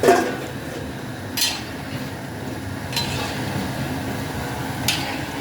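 Fried paneer stirred in a pan with fried capsicum for chilli paneer. A metal utensil clinks and scrapes against the pan about three times at steady intervals over a low, steady background hiss.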